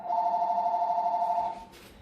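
A telephone rings with one steady electronic trill lasting about a second and a half, then cuts off, close and clear with no talk over it.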